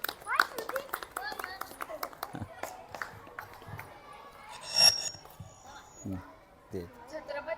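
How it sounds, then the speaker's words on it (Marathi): Schoolchildren clap loudly during a classroom game, brisk scattered claps that thin out over time, mixed with children's chatter and calls, with a few louder bursts near the end. "जोरात आवाज आला पाहिजे टाळ्यांचा."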